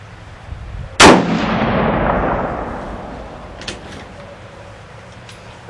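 A single loud rifle shot from a 6.5 TCU rifle with a Bullberry barrel firing a 123 grain Amax bullet, sharp crack followed by a long rolling outdoor echo that fades away, with a faint later click.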